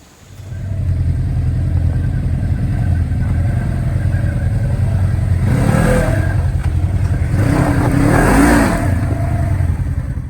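A Polaris RZR 1000S side-by-side runs at a steady loud engine drone on a Windrock Park trail, with throttle surges building twice toward the end. No voices are heard.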